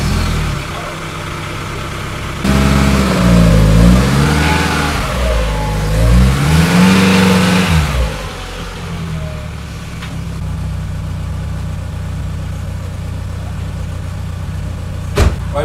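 A Peugeot 206 S16 engine cranks and catches, revs up in a few surging blips, then settles into a steady idle, loud and close, with a brief click near the end.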